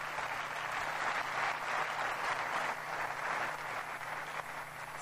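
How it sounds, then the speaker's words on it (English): A large keynote audience at AWS Summit Bahrain 2019 gives a big round of applause, a steady, moderately distant wash of clapping that continues evenly throughout. "So can we get a big round of applause for everybody?"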